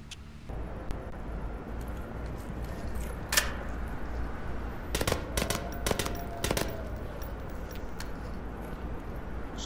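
Gunfire in the VR shooter Onward as a player tests a weapon: a single shot, then a quick cluster of sharp reports with a metallic rattle, over a steady background hum.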